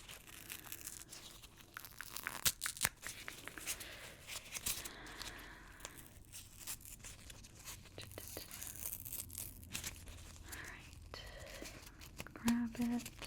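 Crinkly tearing and rustling of the packet around a thick alcohol swab being opened, close and soft amid quiet whispered speech.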